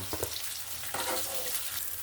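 Pieces of katla fish frying in hot oil in a pan give off a steady, close sizzle that runs the whole time, with a few soft scrapes and bumps and no voices.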